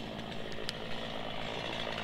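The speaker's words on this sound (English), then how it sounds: "Alright guys, 5200 chainsaw." A 5200 chainsaw runs steadily with a buzzing engine drone, cutting wood in a continuous, moderately distant whine.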